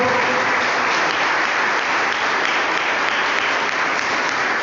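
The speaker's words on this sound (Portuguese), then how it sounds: "a sua igreja ela te aplaude mais uma vez" A church congregation applauding during a worship service, dense continuous clapping from many people filling the room evenly and loudly, without talk on top.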